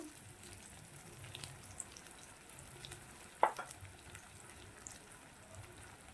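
Tilapia curry base frying in oil with a pinch of sugar gives a faint, low sizzle, broken midway by one sharp utensil clink against the pan.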